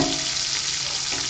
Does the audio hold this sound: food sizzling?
yes